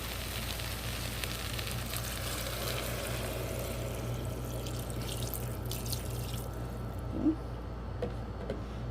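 Water pours steadily into a pressure pot of hotdog stew with diced potatoes and seasonings. A continuous splashing trickle runs close by, then cuts off near the end, followed by a small clink.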